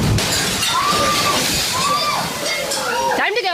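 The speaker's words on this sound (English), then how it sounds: "The water crashes against the window and glass shatters as the spectators scream" Crashing seawater slams against a restaurant window and the glass shatters, a loud sustained slosh and roar of waves with breaking glass near the end, while people scream and shout over it.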